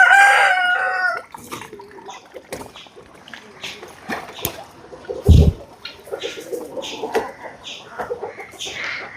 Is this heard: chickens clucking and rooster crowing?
yes